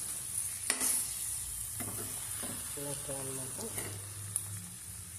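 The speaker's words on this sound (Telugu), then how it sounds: "ఇదిగోండి వంకాయ, మునక్కాయ, తర్వాత మామిడికాయ ముక్కలు తాలింపు వేసిన తర్వాత కొంచెం బాగా ఎర్రగా వేసుకోవాలి" Eggplant, drumstick and raw mango pieces frying in a tempering pan give a soft, steady sizzle with occasional stirring scrapes, while a person talks briefly over the cooking.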